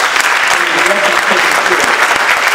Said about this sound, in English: I want to just ask you to join me in giving him a round of applause